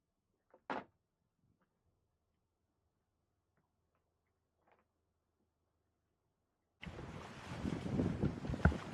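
Sailboat setting off from Ronde Island in Grenada, with steady, loud wind and water rush filling the last two seconds after a brief clatter near the start and long near-silence.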